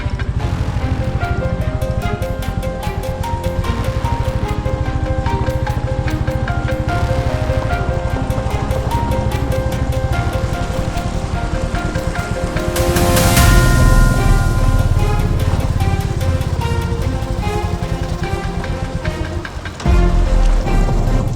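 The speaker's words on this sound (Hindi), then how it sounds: "और ये है हमारी पहली वाटर क्रॉसिंग।" Motorcycle crossing a cold water stream on a ride to Pangong Lake in Ladakh, engine thrumming steadily while water splashes and churns, building to a louder surge midway.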